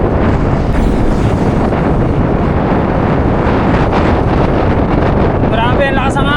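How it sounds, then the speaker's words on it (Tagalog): Heavy wind buffets the microphone in a constant loud roar, with a voice speaking faintly near the end. "Grabe ang lakas ng hangin."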